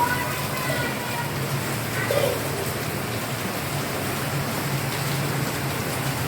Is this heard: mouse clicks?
no